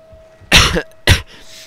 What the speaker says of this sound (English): I'm actually going to see a doctor about my cough later